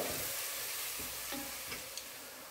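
Garlic sautéing in a pan for Ambur chicken biryani gives a faint, steady sizzling hiss with a few soft stirring scrapes.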